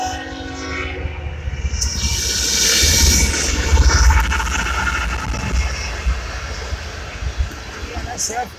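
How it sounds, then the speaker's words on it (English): A long BNSF oil tanker freight train rumbles steadily past nearby, a low heavy roar that swells in the middle and holds, with metallic rattling from the cars. "BNSF oil tanker train."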